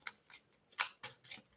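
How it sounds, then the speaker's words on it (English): Tarot cards shuffled by hand in quick riffling bursts, four or five papery swishes in a short stretch, close and fairly soft, no voices. "let me shuffle these cards"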